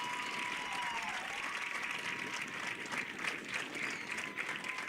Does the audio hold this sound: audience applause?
yes